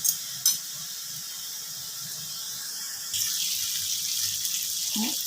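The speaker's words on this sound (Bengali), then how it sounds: "এবারে দিয়ে দিচ্ছি সামান্য একটু জল।" A little water poured into frying masala spiced with turmeric in a pan for potol chingri sets off a sudden, steady sizzle and hiss that carries on to the end, after a couple of brief clinks.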